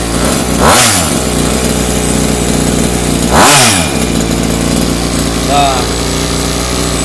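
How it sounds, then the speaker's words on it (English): Redcat XR motorcycle engine being broken in, idling loudly nearby with two quick throttle blips that rev up and fall back, plus a smaller third rise near the end. "Let me give it a little bit of a throttle blip."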